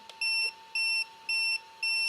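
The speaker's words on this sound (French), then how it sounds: "4 bips, quatrième niveau de DSC." Four identical electronic beeps from an Arrma Vorteks 223S RC car's speed controller, evenly spaced and fairly loud, over a faint steady hum with no voices.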